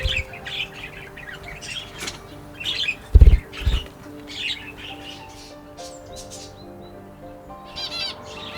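Pet budgies flap their wings in short flights, with loud bursts of fluttering close by among chirps and tweets from the flock.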